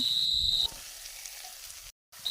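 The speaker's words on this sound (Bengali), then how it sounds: "তারপরে আমি ভালোভাবে পেঁয়াজগুলো ভেজে নিয়েছি আর এবার দিয়ে দেব মাশরুমগুলো" Mushrooms go into a pan of fried onions and sizzle steadily at close range, a continuous crackling fry with a brief dropout near the end.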